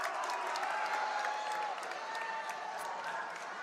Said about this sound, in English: Good crowd here on hand.